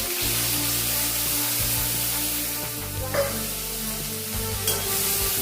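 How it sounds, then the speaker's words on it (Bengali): Mixed dry fruits frying in a little hot ghee over very low heat, with a steady close sizzle and occasional soft stirring scrapes, no voices. "ড্রাই ফ্রুটসগুলি হালকা একটু নেড়ে নিয়েছি"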